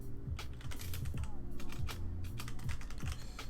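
Rapid typing on a computer keyboard placed right behind a microphone, with loud, close clicks clattering in quick irregular bursts over a steady low hum.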